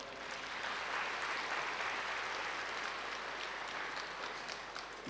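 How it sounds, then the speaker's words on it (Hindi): Sustained audience applause at a spiritual talk gathering, dense steady clapping from many people that fills the whole stretch without pause, with no talking over it. "अपने लिए तो ताली बजाओ।"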